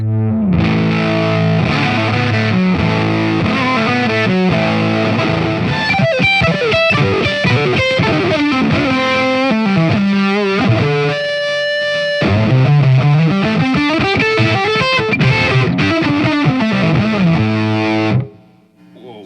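A heavily distorted electric guitar plays loud riffs and sustained notes through an amplifier, saturating heavily in the mid-range, with bending pitches, then cuts off near the end.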